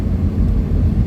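A Honda Civic drives along the road after a long time off, producing a steady, loud, low rumble of engine and road noise inside the car, with no talking.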